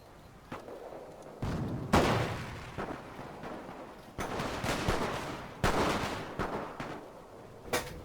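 Gunfire from a World War I battle in the Company of Heroes Great War mod, with sharp shots, rattling bursts and heavier booms hitting in irregular waves over a constant battlefield din.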